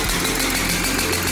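Car engine in Assetto Corsa revving steadily in first gear, a continuous mid-pitched drone that stays loud and close throughout with no voices.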